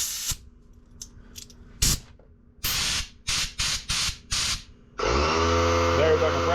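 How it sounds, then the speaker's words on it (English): An air compressor in a garage kicks on into a loud, steady motor hum after a run of sharp hissing air bursts, with a person talking nearby. "there's our compressor kicking on now."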